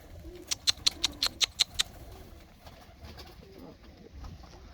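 A rapid series of sharp, bright calls ring out close by from pigeons at coops by a lake, followed by softer cooing and rustling against quiet outdoor background.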